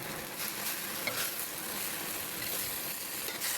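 Sautéed vegetables for a Filipino ginisang gulay, with pechay added, hiss and sizzle steadily in a pan while being stirred, a dense continuous frying noise close up with faint scraping and no talk.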